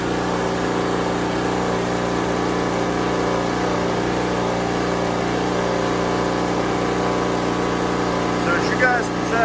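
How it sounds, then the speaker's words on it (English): A Pulsar PG3250 generator idles smoothly and continuously, giving a steady, even engine hum with a faint buzzing harmonic drone and no rise or fall in level. "once this Pulsar warms up, that idle smooths right out."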